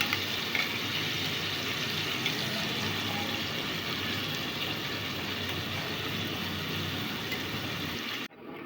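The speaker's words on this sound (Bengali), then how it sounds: "মাছগুলো ভেজে নিচ্ছি" Medium-sized fish fry in oil with a constant, even sizzle of moderate loudness that runs alone for about eight seconds before cutting off abruptly.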